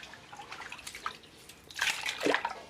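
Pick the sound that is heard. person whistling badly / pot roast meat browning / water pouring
water pouring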